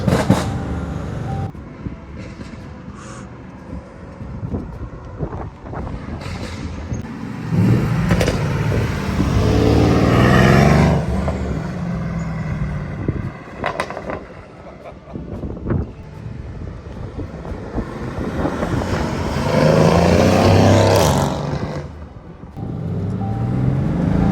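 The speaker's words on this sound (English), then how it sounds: "That is a loud, that's pretty loud upshift noise." A 600hp-plus Mercedes C63 S engine revs hard and shifts up, with loud exhaust pops and crackles bursting out between gears over rushing wind noise.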